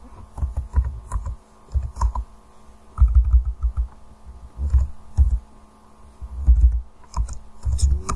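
Computer keyboard keys tapped in quick irregular bursts with short pauses between, close and clear over a faint steady hum.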